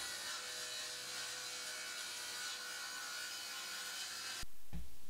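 A saw, guided by a miter gauge, cuts pieces of wood with a continuous, rough rasping noise at a steady moderate level, then a short louder clunk near the end.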